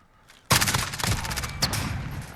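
HK433 battle rifle in 7.62mm firing single shots in Call of Duty Modern Warfare, a sharp loud report followed by rapid close cracks with ringing tail.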